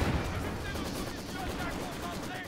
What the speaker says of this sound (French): On a une explosion de dynamite sur la maison